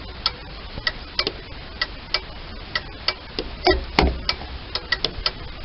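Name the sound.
1967 Sunbeam Alpine turn signal flasher ticking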